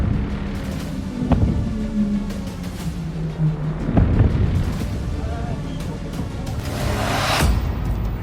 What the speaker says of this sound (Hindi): अब वेनेजुएला में धमाके ही धमाके सुनाई दे रहे हैं